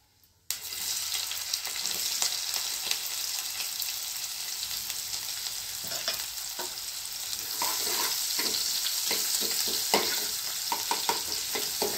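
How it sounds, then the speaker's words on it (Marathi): Chopped onions frying in hot oil with cumin and mustard seeds in a pan, a loud continuous sizzle starting abruptly, with intermittent spoon scrapes and stirring clatter, close up and no talking. "कांदा छान मिक्स करून घ्यायचा याला"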